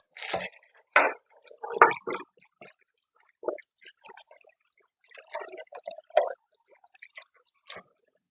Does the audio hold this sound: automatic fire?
no